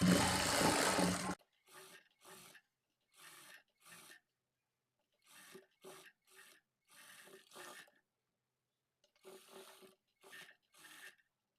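A sewing machine stitches the margin of a lined blouse, running loudly at first and then in short, quiet, stuttering bursts separated by pauses.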